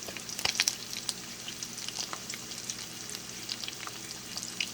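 Beef steak sizzles in a pan, a steady close frying hiss with a burst of louder crackling pops near the start, then a fainter, even sizzle.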